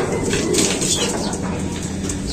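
Pigeons cooing and fluttering nearby in a loft at a Sta. Ana, Cagayan race finish, a steady busy flock murmur with soft coos and wing rustles throughout, no talking.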